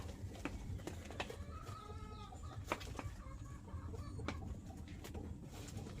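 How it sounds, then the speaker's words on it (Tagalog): Several soft, irregular clucks from a hen over a steady outdoor background, with faint bird chirps and a couple of sharp clicks scattered throughout. "Naririnig nyo ba yung tunog ng inahin?"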